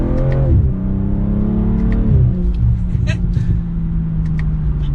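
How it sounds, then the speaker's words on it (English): A 2023 BMW M340i accelerates with a deep, rumbling exhaust that rises in pitch through the gears and pops and gurgles on the overrun. The engine is loud and close, heard from inside the car. "The gurgles in it are kind of deep"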